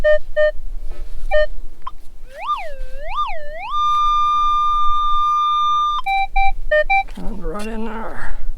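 A Minelab Equinox 800 metal detector beeps near a battlefield site on a hillside, with clear repeated tones, some rising and falling warbles and a long held tone, then a garbled warbling burst at the end.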